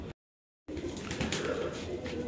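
Pigeons coo at a pigeon farm where a pair with white eyes is kept for sale. The soft, close cooing starts after a brief silent gap and continues through the end.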